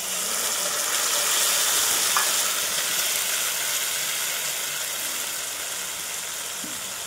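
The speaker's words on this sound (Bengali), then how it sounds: "পেঁয়াজ ভাজা ভাজা হয়ে গেছে, জিরে, ধনে, আদা, লঙ্কা আর হলুদ," Onions fry in a pan with cumin, coriander, ginger, chilli and turmeric for a Bengali fish curry, giving a steady, fairly loud sizzle that fades slightly over time, with a couple of faint clinks.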